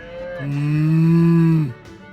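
A cow on a ranch in the Choices story game gives one long, loud, low moo that swells and then cuts off, heard close with no talking.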